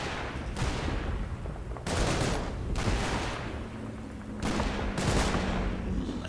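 Machine gun fire in the Combat Mission World War II tactics game: several bursts of rapid automatic fire, with distant rumbling gunfire and booms between the bursts.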